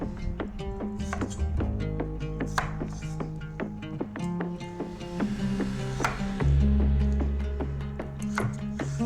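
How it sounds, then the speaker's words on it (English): A knife chops peeled Excalibur potatoes into pieces on a wooden board, with a rapid run of crisp close taps and scraping strokes and a low hum beneath. "Chop into 2-bite pieces."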